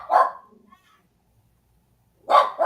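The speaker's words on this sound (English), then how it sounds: "Sorry about the barking dog." A dog barks close by in two short, loud bursts separated by about a second and a half of near silence, with a faint whimper after the first bark.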